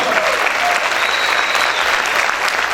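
A church congregation breaks into loud, steady applause, a dense crowd of clapping hands sustained throughout, close and full.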